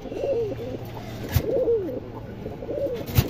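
A male pigeon offered for sale coos close by, three rolling calls at a steady pace over a low, noisy background.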